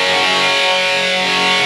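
An electric guitar runs through a distortion pedal cranked for heavy 1980s-style gain, one thick sustained chord ringing alone, loud and saturated, for under two seconds.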